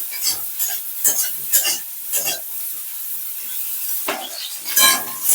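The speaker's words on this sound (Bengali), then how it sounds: "তো এখানে দেখো ফুলকপিটা ভাজা ভাজা করে নিচ্ছি অল্প" Cauliflower florets frying in hot oil, with a steady faint sizzle under repeated scraping and stirring strokes, and a louder burst of stirring near the end.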